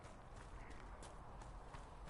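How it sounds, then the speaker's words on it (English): Horse hooves clip-clop in a steady, quick rhythm from a Ferelden horse in the fantasy game Dragon Age: Inquisition, moderately close and without speech. "That shitty Ferelden horse you get at the very beginning."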